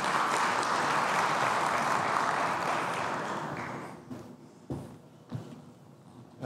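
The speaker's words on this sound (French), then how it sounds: "sous vos applaudissements." Audience applause welcoming the organizing committee president at a DSI forum, a full steady round of clapping that dies away after about four seconds, leaving a few scattered thumps and footsteps.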